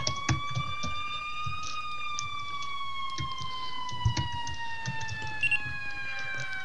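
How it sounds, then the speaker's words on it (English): An emergency vehicle siren wails steadily in a firefighting video game, a loud sustained tone sliding slowly in pitch, with faint thumps and clicks underneath. "Whoever has their siren on."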